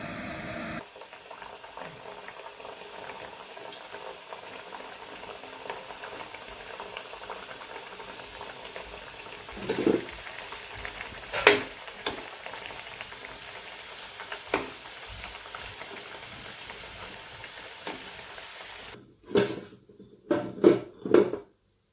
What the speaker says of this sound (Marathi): तेल तापत ठेवलेलं आहे आपण पहा आपलं तेल तापलेलं आहे का आपण पाहूया एक गोळा टाकलेला आहे